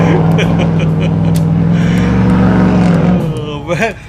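A white truck with a worn, failing muffler rumbles loudly nearby with a steady low drone, then its exhaust note fades toward the end.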